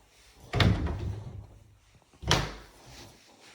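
Closet door in a new-build house opening and closing, two separate bumps with a brief rattle after each, fairly quiet and close, with no talk.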